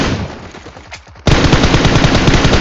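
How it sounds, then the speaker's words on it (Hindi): Rapid automatic gunfire in the mobile game PUBG Mobile, played on an iPhone 7 Plus, starting with softer distant shots and then breaking into a loud, sustained burst close by. "कवर फायर दो ना भाई"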